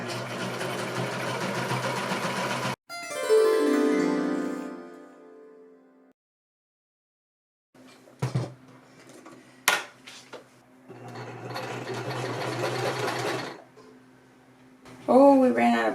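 A sewing machine hems the serged edges of a fire flow costume, stitching in bursts broken by pauses, with a person talking over and between the runs.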